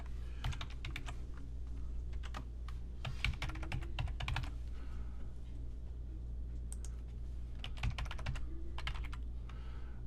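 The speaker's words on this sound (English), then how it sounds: "if I can type properly" Quick bursts of typing on a computer keyboard while logging in as a test user, crisp close key clicks in short clusters with brief pauses between them.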